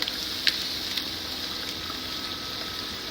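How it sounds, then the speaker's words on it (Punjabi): Crushed tomatoes go into a pot already holding yogurt paste, making a steady, close, wet gushing and bubbling sound with a couple of small splashes at the start and no voices. "ਹੁਣ ਆਪਾਂ ਐਡ ਕਰ ਦਾਂਗੇ ਕ੍ਰਸ਼ ਕੀਤੇ ਹੋਏ ਟਮਾਟਰ"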